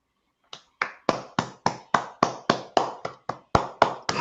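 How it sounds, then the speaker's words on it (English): A single person clapping hands about a dozen times in an even rhythm, close and crisp with clear silence before the first clap. "let me give you a clap"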